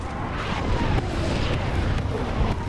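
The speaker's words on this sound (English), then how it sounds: "Of course, I get hit by artillery" Artillery shells crash around and onto an IS-6 heavy tank in War Thunder Mobile, dense rumbling booms and impacts layered into a loud, continuous roar.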